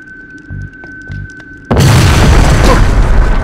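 A big explosion in the video game Jak II: quiet game ambience with a couple of low thumps, then a sudden loud, broad blast that roars on and rumbles to the end.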